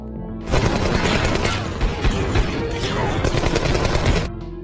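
Heavy gunfire rattles without pause, bursts of automatic fire and single shots overlapping, loud and close, then cutting off abruptly.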